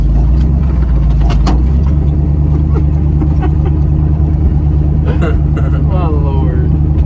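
A Ford wrecker truck's engine drones steadily as it rolls over a bumpy surface, a loud low rumble throughout with occasional clunks and rattles, and brief voices near the end.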